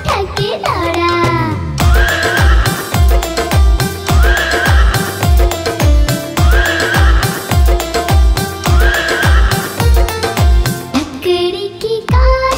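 A horse neighs near the start, then a rhythmic clip-clop of galloping hooves repeats steadily under a bright, loud nursery-rhyme music track.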